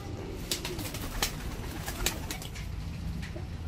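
A black pigeon with black tongue, beak and feet coos softly, with several low cooing calls over steady background noise and a few sharp clicks or taps.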